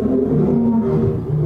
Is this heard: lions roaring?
yes